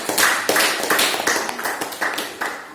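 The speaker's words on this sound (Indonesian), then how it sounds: "tepuk tangan dulu buat kelompok." A classroom of students claps for a presenting group, sharp hand claps in a loose, fairly quick rhythm, close and lively, with irregular timing as individual claps overlap.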